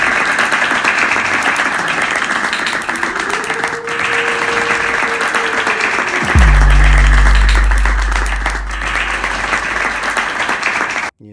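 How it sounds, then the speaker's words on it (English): Looped crowd applause sample triggered from a Novation Launchpad X, continuous dense clapping throughout, joined midway by a rising tone that drops into a deep sustained bass note before the loop cuts off. "this clapping kept going because I haven't taken it off loop"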